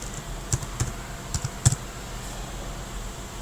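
A few quiet, scattered keystrokes on a computer keyboard, sharp individual clicks in a short burst and then a pause, close and faint against a soft background.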